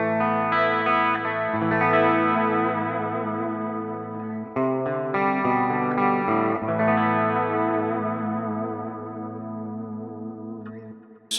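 Clean electric guitar run through a Quad Cortex with reverb, stereo dotted-eighth and quarter-note delay and a touch of ambient chorus, playing sustained shimmering chords that swell, change twice and trail off in long echoing tails.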